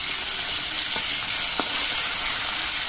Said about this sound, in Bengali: এবার এর মধ্যে আমি কয়েকটা করে মাছ দিয়ে মাছগুলো ভেজে নিচ্ছি।